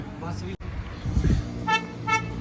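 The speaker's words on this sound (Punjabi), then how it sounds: "ਹਾਰਨ ਵੀ ਵੱਜਣੇ ਸਟਾਰਟ ਹੋ ਗਏ" Vehicle horns toot on a busy road in India, a couple of short honks cutting through traffic noise, with people talking nearby.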